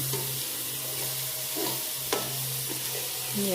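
Ingredients frying with curry leaves in a kadai while being mixed: a constant hissing sizzle with a low hum, punctuated by occasional scrapes and knocks of the spoon against the pan.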